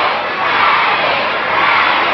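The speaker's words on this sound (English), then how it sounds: "Crowd really on his case." A pro wrestling arena crowd shouts and roars in a dense, sustained wall of voices, loud and continuous with no clear individual words.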